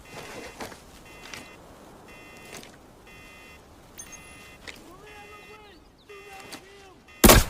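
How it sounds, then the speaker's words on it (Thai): A single sharp gunshot through a glass window in the shooter game Arena Breakout, loud and close at the very end, after quiet game ambience with soft thuds, clicks and faint beeps. "เดี๋ยวรอยิงตรงกระจกนี่เลย"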